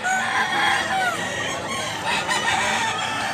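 A rooster in Cebu clucks and gives short crowing calls, close by and fairly loud, the bird's voice rising and falling over a light outdoor background with no one talking.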